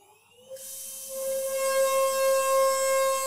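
A DATRON CNC milling machine spins an 8 mm single-flute balanced end mill at 32,000 RPM while cutting a circular pocket, a piercing steady whine that kicks in sharply after half a second, joined by a bright hissing cut sound that holds loudly.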